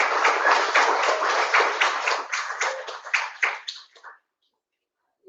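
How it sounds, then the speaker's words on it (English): Audience clapping at a Web3 fireside chat event, a fairly loud burst of many hands that thins into scattered claps and stops, leaving silence. "So big applause to everyone."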